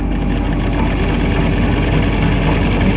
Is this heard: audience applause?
no